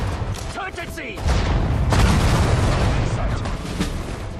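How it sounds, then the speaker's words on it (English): Anti-tank grenades explode in the World War II strategy game Sudden Strike 4 at the battle of Tobruk, a sustained rumbling boom and blast din following a brief sharper sound. "And we should probably use some anti-tank grenades."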